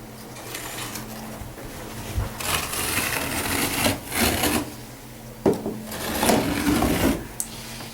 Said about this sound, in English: And also we need to cut the carpet here.